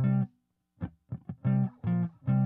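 Electric guitar power chords strummed in short, distorted bursts, a single hit, then a few quick choppy stabs and three sustained chords in a steady rhythm, loud and close, with no talking.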